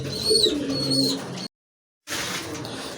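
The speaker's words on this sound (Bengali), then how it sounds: "আর পেছনেরটা কিন্তু নর কবুতর, এটাও কিন্তু অনেক ভালো ডাকে।" Male fancy pigeons of a prized cooing breed call in repeated throaty coos from close by, broken by a short silent gap before the cooing and flutter of the loft resume.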